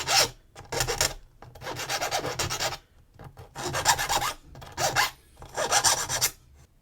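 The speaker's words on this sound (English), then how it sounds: "Might just go between the teeth now and get rid of any sort of burrs and things." Rasping strokes of a file worked between the teeth of a comb to clear burrs, coming in five close, dry bursts of scraping separated by short pauses, with no talking.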